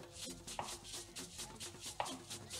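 Rhythmic knife chops on a chopping board while preparing eggs for a sardine-egg sandwich, a steady run of crisp, close taps with two sharper louder strikes, no talking.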